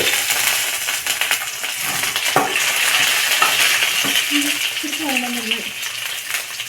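Urad dal and green chili fry in hot oil with a continuous crackling sizzle, broken up by occasional clinks and stirring scrapes, while a short whistle-like tone rises near the end.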